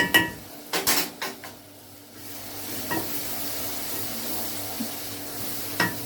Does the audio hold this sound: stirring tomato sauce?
yes